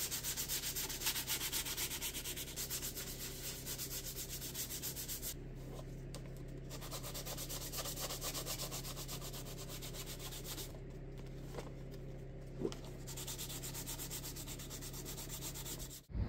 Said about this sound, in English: Only thing left to do now is to smooth the bottom with some fine sandpaper to remove the glue marks.